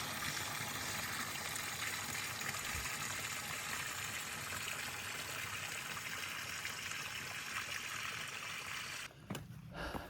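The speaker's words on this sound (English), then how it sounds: "I couldn't resist a stop at a water source flowing this well." Water pours steadily from a trail water source on the Appalachian Trail, a close continuous gushing flow that holds for nearly the whole stretch before it briefly cuts away near the end.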